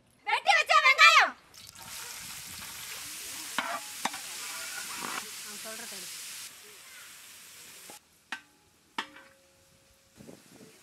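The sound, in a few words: chopped onions frying in oil, being stirred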